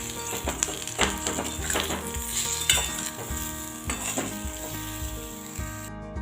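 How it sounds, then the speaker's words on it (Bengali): Pointed gourd pieces fry in a pan with salt and turmeric, a steady close sizzle broken by scraping stir strokes of a utensil against the pan, with no voices. "নুন হলুদ দিয়ে আমি আরও কিছুক্ষণ ভেজে নিয়েছি।"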